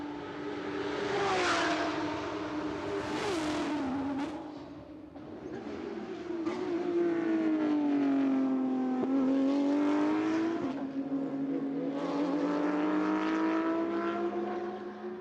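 A Porsche race car at Interlagos in qualifying. Its engine whines clearly through repeated upshifts and downshifts, rising and falling in pitch and swelling in volume as it nears and passes, with no talk.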